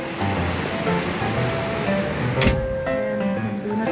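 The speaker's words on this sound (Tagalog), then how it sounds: "Biglang bumuhos yung ulan." Heavy rain pours down steadily in a broad, constant wash close by, briefly broken by a sharp knock partway through, with no talk over the downpour.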